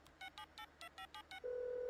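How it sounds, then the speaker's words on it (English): A quick series of about eight short touch-tone beeps, then a steady electronic tone begins as the line connects and rings. "Oh, it's ringing, Rupert."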